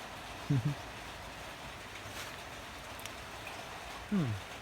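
Steady rain hiss fills the scene, with two short low murmurs of voices breaking through near the start and end.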